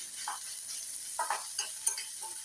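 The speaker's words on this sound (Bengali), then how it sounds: "এখন মিনিট 2 আমি একটু এইভাবে এটাকে ভেজে নেব" Brinjal mash frying in a pan for bharta, a soft steady sizzle with a few brief stirring clicks and scrapes, close and fairly quiet throughout.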